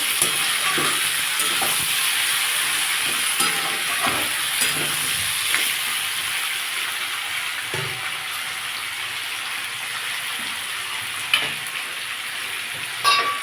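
Aubergine and mixed vegetables fry in oil in a pan, producing a steady, fairly loud sizzle with occasional soft stirring knocks and no voices.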